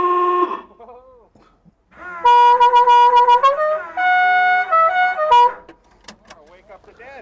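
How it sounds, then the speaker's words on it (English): A loud musical car horn blares a short tune of sustained, shifting tones, bracketed by a voice talking before and after. "I also have a musical horn, because that's kind of my trademark, to have loud horns"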